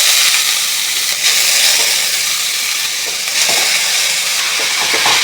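Grated carrot hits hot ghee in a pan with a loud, continuous sizzling hiss that swells slightly in brief surges and never stops.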